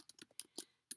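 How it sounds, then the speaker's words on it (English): Keys clacking on a computer keyboard as a web address is entered, several close, quick keystrokes in an uneven rhythm with short pauses between them. "I'm going to type in anything I want"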